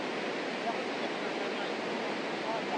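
A stream rushing past in a continuous, loud broadband wash of flowing water, steady and unbroken throughout with no other sounds standing out.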